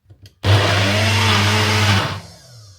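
A kitchen blender roars loud and steady for about a second and a half, mixing two eggs, honey, vanilla extract and protein powder, then cuts off abruptly and spins down.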